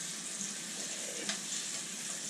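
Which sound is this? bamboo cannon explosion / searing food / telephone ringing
searing food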